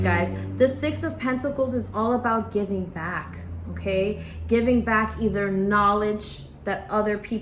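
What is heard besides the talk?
None of the usual background noises is heard.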